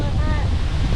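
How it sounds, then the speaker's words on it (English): Wind blowing off the Berkeley River in the remote Kimberley region, a brief, steady rush of gusty air buffeting the microphone, loud and close with a watery surf-like wash underneath. "Feel the wind coming off it."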